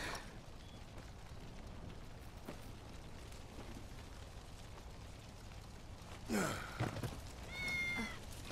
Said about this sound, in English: Oh my God, Tifa, hold the kitty